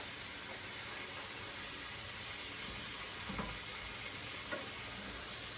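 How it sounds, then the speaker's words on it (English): Vegetables sauté in oil on a stove, producing a soft, steady hiss that runs evenly throughout, with a few faint knocks and stirring sounds in the later seconds. "So that we're just going to saute"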